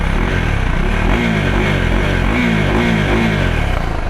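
A 2024 Husqvarna Vitpilen 401 motorcycle with a short stock exhaust idles and revs up close, its single-cylinder engine throbbing loudly with a few quick blips of the throttle.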